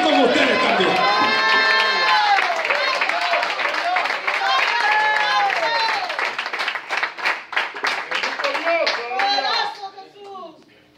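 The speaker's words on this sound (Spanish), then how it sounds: "Yo voy a aplaudir con ustedes también." A church congregation claps along during an evangelist's sermon, a steady run of hand claps under loud, melodic preaching and singing voices that carry on throughout, the clapping sharpening into distinct rhythmic bursts near the end.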